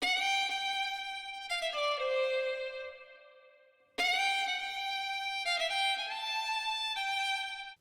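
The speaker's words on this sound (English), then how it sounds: "I found another fiddle sample from the same library in Arcade" A bowed fiddle plays sustained, slightly gliding melodic notes, then pauses and resumes with a new phrase; clear and upfront with no voices.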